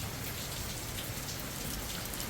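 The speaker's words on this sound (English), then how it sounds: "It's starting to rain." Rain falls during Hurricane Milton, a dense, even hiss of drops striking surfaces around a front porch, steady and continuous without talk.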